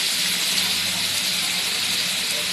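Chopped onion sizzles in hot oil in a wok for anda masala, giving a steady, dense, bright hiss that holds evenly throughout, close and fairly loud with no talking.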